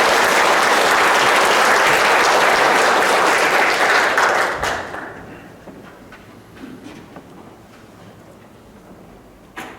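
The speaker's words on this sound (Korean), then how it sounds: "박수 감사합니다." Audience applause after a pastor's remarks at a church gathering, dense and loud for about four and a half seconds before fading into a quiet room with scattered faint claps.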